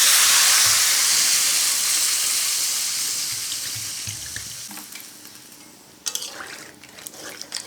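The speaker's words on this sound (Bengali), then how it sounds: "এখন আমি জল দিয়ে দেবো।" Water runs and pours loudly into a pan of chicken and bottle gourd, a steady splashing stream that tapers off, followed by a few brief clinks and knocks near the end.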